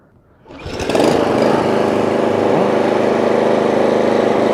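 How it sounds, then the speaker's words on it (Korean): Small engine of a TK48 machine, started with the choke set: after a brief quiet moment it catches and rises into a loud, steady idle that runs on evenly, close by and with no talk over it. "이제 시동을 걸겠습니다"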